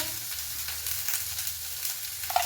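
Cumin and pepper frying in a pan for mushroom curry give a steady, soft sizzle close by, with a faint stir near the end.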